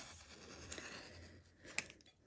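A rotary cutter slices along foundation paper on a quilting project, giving a soft, continuous scraping hiss with a few sharp ticks near the end, close and fairly quiet, with no voices.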